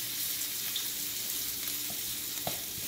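Garlic sizzling in a preheated, very hot stir-fry pan, a steady bright frying hiss with faint stirring clicks, close and continuous.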